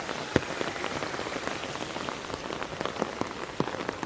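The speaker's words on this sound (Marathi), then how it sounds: "एवढा पाऊस, एवढं पाणी, बापरे." Heavy rain pouring down on a village street, a dense, loud, steady patter of drops on surfaces with no voices.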